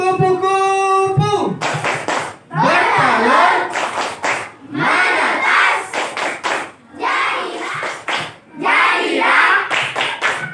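A group of children clap a rhythmic clapping chant in a classroom, chanting along in bursts of loud, rhythmic claps and voices.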